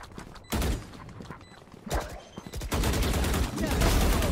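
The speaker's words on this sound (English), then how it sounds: "Swamp, swarm grenade out." A swarm grenade thrown in a first-person shooter game, followed by dense repeated bursts of gunfire and thuds that build into a loud, continuous volley, with occasional voices underneath.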